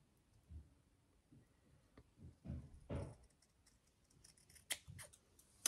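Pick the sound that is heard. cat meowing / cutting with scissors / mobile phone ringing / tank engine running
cutting with scissors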